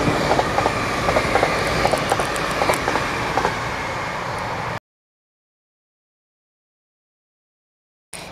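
A Class 60 freight locomotive hauling three wagons rolls past with steady rumble and rhythmic clickety-clack of wheels on rail joints, loud and near, before the sound cuts to silence.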